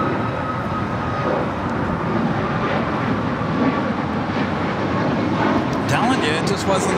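Airliner taking off on runway 25 right at Los Angeles International Airport, a steady broad jet roar that stays loud and even throughout, with tower radio voices faintly underneath.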